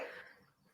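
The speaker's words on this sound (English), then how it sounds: "What with me coughing" A single cough from a woman on a casual podcast about running a cake business, sharp at the start and trailing off quickly, close to the microphone with no talk over it.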